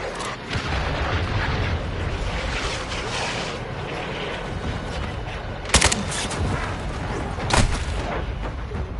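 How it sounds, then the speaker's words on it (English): Cruise missile strike in Call of Duty Modern Warfare 2 online play: rumbling, heavy explosive blasts and debris noise with two sharp loud bangs, continuous and dense throughout. "Hostile cruise missile launched"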